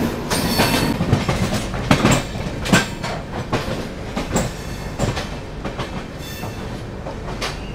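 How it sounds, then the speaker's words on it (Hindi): The Kanpur Shatabdi Express rake rolls into the yard with rhythmic clickety-clack of wheels over rail joints, close and fairly loud, with metallic knocks along its length and no voices. "कानपुर शताब्दी एक्सप्रेस का रेक यहाँ पे यार्ड में जाता हुआ"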